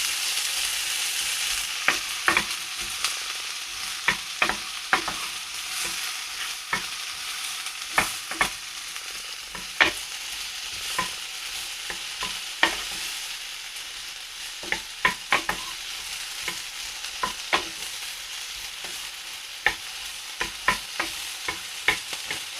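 Peppers and onions sizzle steadily in a pan smoked with paprika while a utensil stirs them, occasional sharp scrapes and clicks punctuating the continuous frying hiss for over twenty seconds, no voices.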